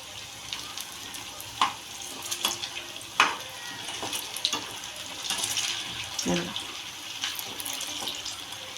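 Poha vada frying in oil in a pan crackles with a steady, fairly close sizzle, broken by occasional sharper pops and scraping clinks as the pieces are turned.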